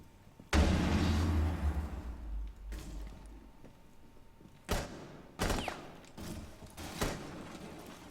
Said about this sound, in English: Sounds like all that gunfire is downstairs northeast